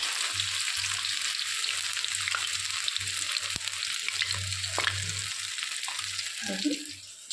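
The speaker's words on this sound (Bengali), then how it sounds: "এইভাবে দুটো তিনটে পাতা একসঙ্গে করে নিয়ে বাটারে চুবিয়ে চুবিয়ে আমি ভেজে নেব।" Battered bitter gourd leaf fritters fry in hot oil, a steady close-up sizzle and crackle running throughout, broken by a few sharp clinks of a utensil.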